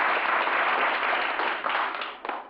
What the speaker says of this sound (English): there they are, the same moonshiners applauding